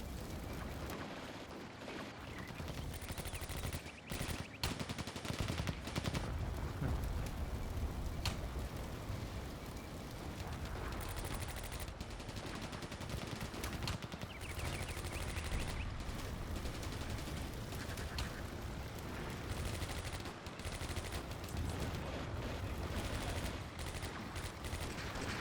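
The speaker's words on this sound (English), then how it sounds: "Okay, the tanks are doing some shooting." Tank guns and small arms fire in the World War II strategy game Combat Mission: Barbarossa to Berlin, with sharp repeated cracks and bursts scattered over a steady rumbling battle backdrop, sustained for about twenty-five seconds, no talk.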